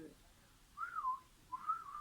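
A person whistles softly in two short rising and falling phrases, imitating a wolf whistle, faint and close.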